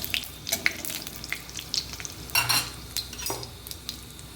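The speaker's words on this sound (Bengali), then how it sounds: "পাঁচফোড়নটা একটু ভাজা হোক" Panch phoron spices with dry red chili and bay leaf crackle and sizzle in hot oil in a wok, a close steady fry broken by sharp pops and a few stirring scrapes.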